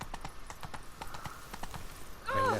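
Horse hooves clop up stairs in The Witcher 3: Blood and Wine as a quick, even run of hard hoof strikes. A short whinny closes the passage, and no one speaks.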